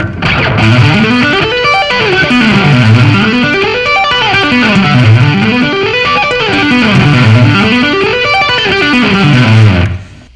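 Fast electric guitar arpeggios sweep up and down in a steady repeating pattern, loud and distorted, with no talking.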